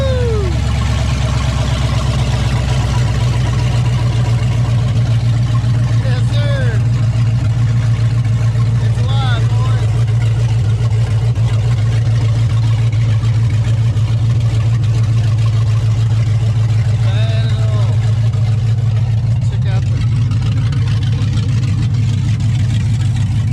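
A Ford Gen II Coyote engine runs with no exhaust fitted, idling with a loud, steady, deep rumble that fills the clip while people talk faintly in the background.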